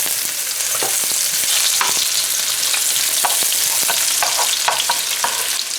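Onions fry loudly in hot oil for a stew, giving a continuous close-up crackle scattered with sharp pops and stirring clicks. No one speaks.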